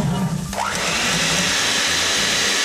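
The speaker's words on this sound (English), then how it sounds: "What's with this blender?" A kitchen blender whirs continuously, its motor pitch shifting briefly near the start before settling into a steady, loud drone.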